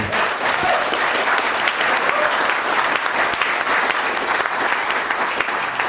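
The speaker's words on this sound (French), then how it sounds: "je voudrais qu'on l'applaudisse bien fort" An audience at a magazine event applauds loudly, a dense, sustained wall of clapping from a large crowd close by.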